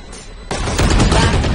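Valorant gunfire breaks out as a sudden dense burst of rapid shots over brief game ambience, loud and close, lasting about a second.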